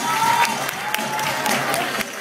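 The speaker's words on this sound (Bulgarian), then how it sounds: "Аплодисменти още веднъж!" An audience applauds a young magician after his trick, with dense steady clapping filling the hall and a faint crowd murmur under it.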